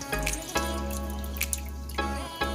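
Chicken base mixed with a cup of hot water pours into a copper baking dish, a steady liquid stream with a few sharp drips and splashes, close and moderately loud, with no talking.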